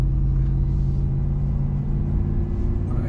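Dodge RAM TRX pickup engine in sport mode giving a steady, loud low rumble of acceleration from inside the cab, continuous throughout with no talking.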